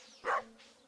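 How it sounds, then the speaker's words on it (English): A single short dog bark from the farming video game Stardew Valley sounds once, close and clear, over a faint steady background hum of game ambience. "I think Stardew definitely has a better dog sound than Minecraft does now."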